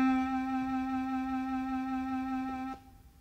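A clarinet sustains one steady tone for close to three seconds, bright and clean with a strong harmonic series, then stops abruptly, leaving a faint room tail.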